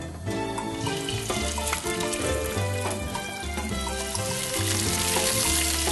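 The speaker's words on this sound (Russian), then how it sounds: "Обжариваем, естественно, до золотистого цвета." Meat sizzles and crackles steadily in a hot pan with olive oil, loud and close, with no talking.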